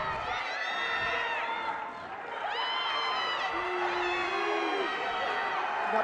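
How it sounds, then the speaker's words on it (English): A home crowd at a high school wrestling tournament cheers and shouts loudly and continuously, with whoops and whistles over a dense roar, while a commentator talks over it. "Got the squeeze from the crowd. Home crowd liking it."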